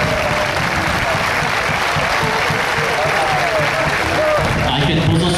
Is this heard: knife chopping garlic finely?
no